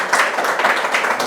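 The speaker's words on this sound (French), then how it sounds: "sous vos acclamations" An audience at a graduation ceremony applauds in dense, continuous clapping, loud and close, with no pauses.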